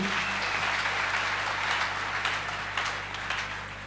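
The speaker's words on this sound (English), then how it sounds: "Give Jesus a clap offering" A church congregation claps together in a clap offering, a steady wash of applause with a few louder bursts, moderately distant and alone without speech.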